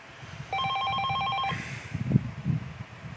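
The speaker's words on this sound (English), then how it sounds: "the noise of the ringing phone broke his train of thought" A telephone rings in one electronic burst of about a second in the visual novel game 428: Shibuya Scramble, clear and fairly loud, followed by softer thumps and rustling.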